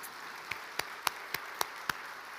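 A church congregation answers with applause during a Sunday sermon, heard as six sharp, evenly spaced claps in unison, fairly quiet, with no voices over them.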